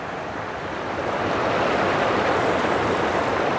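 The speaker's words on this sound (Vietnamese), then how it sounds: "Hiền đang lội qua cái suối nè mọi người. Nó chảy xiết lắm mọi người." A fast-flowing mountain stream at Suối Đá Giăng, Hòn Bà in Khánh Hòa, a loud broadband rush of water close by that swells and holds steady as someone wades across it.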